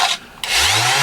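A small Festool sander with dust extraction and Abranet abrasive runs with a steady, bright whirring hiss. It drops away briefly and then returns with a rising low hum as the motor spins up.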